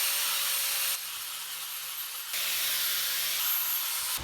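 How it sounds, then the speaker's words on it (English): A grinder with a 36-grit flap disc sands a Jeep Rubicon drive shaft in a loud, continuous hissing grind, easing off briefly in the middle before bearing down again. "We're using the sanding flat disc right here, 36 grit, and we are going to sand this drive shaft down"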